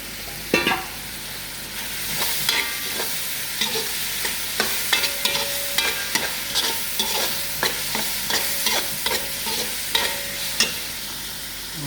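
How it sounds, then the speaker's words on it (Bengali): Capsicum, large bell-type peppers, fries in a pan over steady sizzling, stirred with repeated scraping and clinking strokes that come at an irregular rhythm, close and clear, with no talking. "পাঁচ মিনিট লাড়তে থাকবো, যখন একটু নরম হইব মরিচগুলো"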